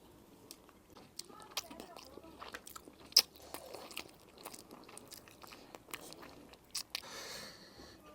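Pickled-pepper chicken heads are chewed and bitten up close, giving soft crunches and wet chewing that run in irregular bursts, with a couple of sharper bites and faint background noise.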